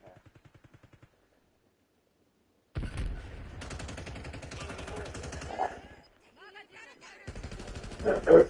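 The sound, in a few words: gunfire in video game Call of Duty Warzone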